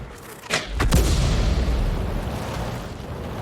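A Su-8 artillery shell slams into a tank in a tank battle game, a single loud booming impact with a sharp crack followed by a long rumbling decay.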